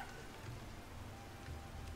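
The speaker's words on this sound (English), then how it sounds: "Oh, why does it have to rain?" Steady, soft rain hiss fills a scene in the video game For the King, a faint, even patter with no other sounds.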